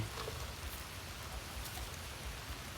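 Light, steady rain falls on a warm-evening rural landscape as a continuous, soft patter of drops that carries through the whole stretch with no voices.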